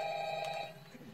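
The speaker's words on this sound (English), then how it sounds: "Answer the goddamn phone." A telephone rings in the horror video game Five Nights at Freddy's, a short electronic ring under room noise that fades after a brief burst.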